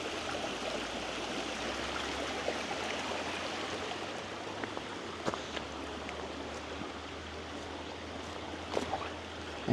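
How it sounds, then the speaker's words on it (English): A creek flows steadily at a soft, even level, its continuous watery rush running throughout with a few faint clicks and small splashes near the end. "there's a creek right down in here."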